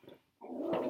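Lily the dog gives a short growl that breaks into a louder rough bark, close by, reacting to someone walking past in the street outside the house.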